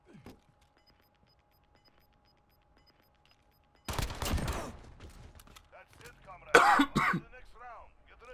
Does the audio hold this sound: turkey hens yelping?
no